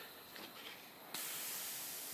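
An airbrush compressor releases its air in a sudden loud hiss that starts abruptly and holds steady, following a fainter background hiss.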